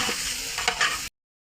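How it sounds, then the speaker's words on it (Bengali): Chicken pieces sizzle and scrape as they are stirred in a pot for village-style tehari, a steady, close hiss for about a second before cutting off. "মাংসটা কষানো হওয়া পর্যন্ত আমরা অপেক্ষা করবো।"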